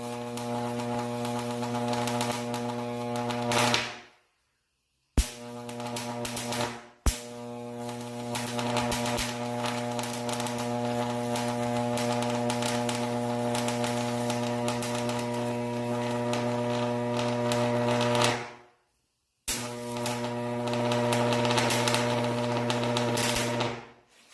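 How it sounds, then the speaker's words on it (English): High-voltage arcs from an X-ray transformer, a loud buzzing hum with sharp crackling, broken by a few abrupt silent gaps where the arc cuts out, plus a sharp snap on restart. "we're going to see some pretty decent voltage arcs here"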